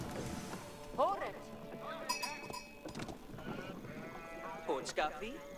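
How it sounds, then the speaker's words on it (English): Sheep bleat repeatedly in the Age of Empires 4 video game, with several wavering calls scattered over soft clinking and a low background, while people talk throughout. "So you need to corral the sheep."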